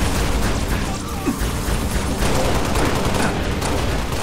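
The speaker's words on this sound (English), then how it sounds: "How many times do I have to shoot you in the head for it to register?" Dense rapid gunfire in the shooter game Halo Reach, a continuous loud barrage of shots and bursts with booming impacts filling the whole stretch.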